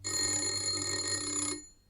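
A single sustained electric doorbell rings loudly for about a second and a half, then cuts off abruptly.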